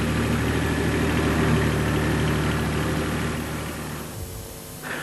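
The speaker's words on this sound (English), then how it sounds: "Here we've used a tractor and blade." A tractor engine, running a blade while fence posts are set, runs steadily at close range, a loud rumbling drone that eases slightly toward the end.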